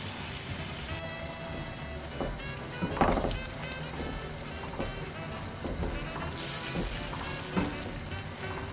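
In a pan of rosé sauce, sliced mushrooms and milk cook over raised heat with a steady, rain-like sizzle and bubbling, broken by a few louder crackling bursts and no talking.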